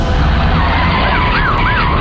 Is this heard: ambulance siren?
yes